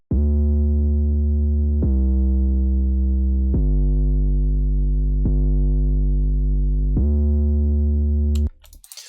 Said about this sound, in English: On top of that we want an 808 that functions as a sub layer,